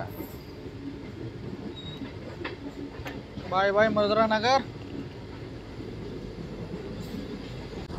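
A Bhimavaram–Vijayawada MEMU express rolling on past the Madhuranagar halt, a steady low rumble of wheels and carriage throughout, with a short burst of someone speaking in the middle.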